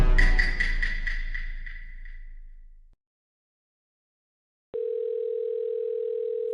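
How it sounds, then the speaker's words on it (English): A telephone dial tone at the start of a call: a fading tonal ring decays into about two seconds of silence, then a steady, loud, unbroken dial tone sounds alone. "We hear a phone call"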